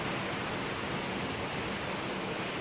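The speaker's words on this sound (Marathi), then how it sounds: "तर बघा कसला मोठा पाऊस आलाय" Heavy monsoon rain pours down on a village at the start of the rainy season, a dense, even, unbroken hiss close by with no voices.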